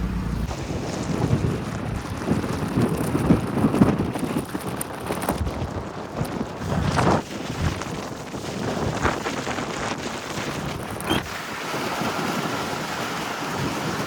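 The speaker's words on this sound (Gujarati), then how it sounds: "કદાચ તમારો વોઇસ સંભળાય કે ના સંભળાય પવનના લીધે" Rushing wind buffets the microphone as riders sit on top of a moving vehicle, a loud, continuous roar and rumble with gusty swells and a few sharper bumps, with no clear talk.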